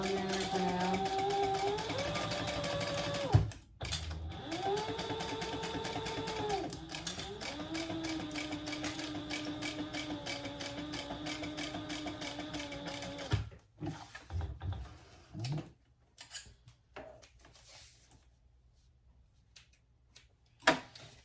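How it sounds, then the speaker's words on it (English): A sewing machine fitted with a piping foot stitches the seam of a bag lining, its motor whine rising and falling in speed in long steady runs, then stopping and restarting in short bursts near the end. "sew that together at the seam allowance in the pattern. I still have my piping foot on there for now"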